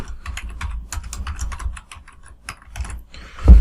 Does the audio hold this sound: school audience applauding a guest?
no